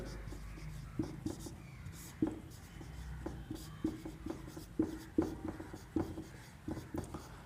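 Handwriting during a Class 10 maths lesson on polynomials: short, soft scratching strokes repeat at an irregular pace, fairly close and quiet, with faint room noise between them.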